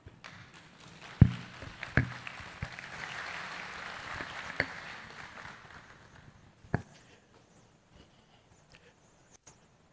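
An audience applauds the UWI Mona Guild of Students president at a student orientation, with a few sharp claps at the start, a moderate wash of clapping in the middle, then a fade to isolated taps.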